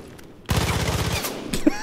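Rapid automatic gunfire in the video game Far Cry 5 starts abruptly and continues as a close, loud, fast burst of shots, with a brief voice at the end.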